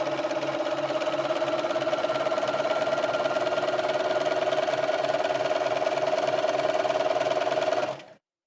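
A Bernina 215 sewing machine runs a triple straight stitch along the edge of fabric cut on the bias, a steady rapid mechanical whir and tapping that continues for about eight seconds before stopping abruptly.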